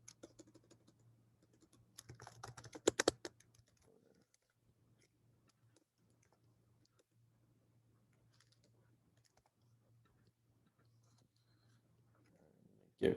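Light typing on a computer keyboard, scattered soft key clicks with a short busier burst early on, faint and close over a quiet background hum.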